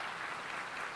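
Brief audience applause for donors at a biblical archaeology museum opening, a soft wash of many hands clapping, faint and steady.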